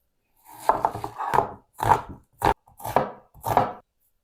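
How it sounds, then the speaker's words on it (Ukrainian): A knife dices a medium onion on a wooden board, seven crisp taps spaced about half a second apart, close and clear with no talking. "Тепер мені знадобиться одна така середня цибулинка, наріжу її кубиком"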